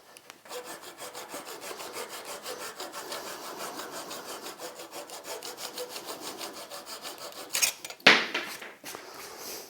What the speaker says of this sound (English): do take care when you're towards the end of the cut, because the saw is very sharp